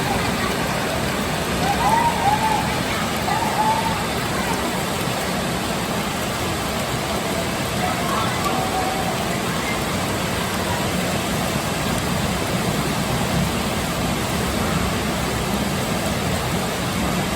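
Heavy rain pours steadily onto flooded streets in Phnom Penh, a dense continuous wash of hiss and splashing that holds at an even level throughout with no break or change.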